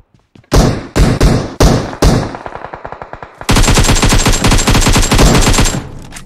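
Gunfire in PUBG Mobile as a player pours many bullets into a bot, loud close bursts of automatic fire: a few heavy separate shots, a rapid rattling stretch, then a long continuous stream of shots to the end.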